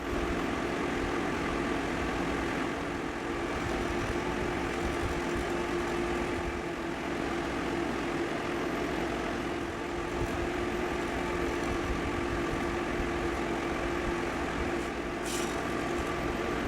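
A wood lathe spins an oak and resin bowl while a carbide tool cuts it, giving a steady, loud droning whir with a continuous scraping rasp that runs without pause.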